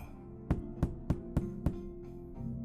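Knocking on a wall inside a lighthouse: five evenly spaced, dull knocks, close and distinct over a low hum, then a few fainter taps trailing off.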